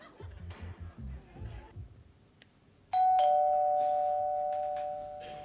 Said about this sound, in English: Is that the bell, Del?